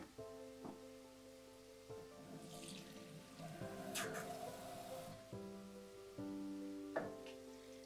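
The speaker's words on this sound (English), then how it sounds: "So I'm going to add some more water" Water runs and splashes into a pot of cooking ogbono soup in a steady stream, with clinks of metal and a faint hum beneath.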